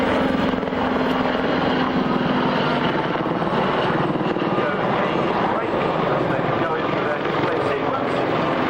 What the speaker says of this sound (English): Helicopter that we will be seeing with the historic aircraft right later on